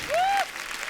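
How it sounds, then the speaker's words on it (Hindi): Audience applause for guests on a Hindi comedy show, a short burst of clapping with a thin whistling tone rising over it near the start. "एक बार जोरदार तालियां"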